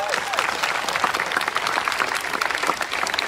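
Steady crowd applause at a Clemson University Black Lives Matter protest, dense clapping that holds loud and even throughout, with a few whistles and cheers mixed in.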